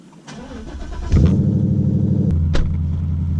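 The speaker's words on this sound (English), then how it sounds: "when I start it up in a cold start, it has a much higher RPM limit on there" Car engine cold-starting after a BAMA Rev X tuner has been programmed: a quick cranking catch, then a loud, steady, high-idling rumble that settles slightly lower and continues close by.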